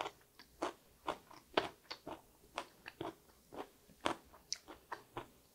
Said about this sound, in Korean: 일단은 새우가 들어있는 요구르트 소스를 먹어보도록 하겠습니다